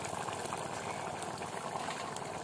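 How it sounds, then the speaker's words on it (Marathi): Prawn masala gravy with kokum boiling in a pot over a wood-fired stove, a steady dense bubbling and gurgling that stays close and continuous throughout, with no voices. "आणि बघू शकता उकळी किती जबरदस्त आलेली आहे."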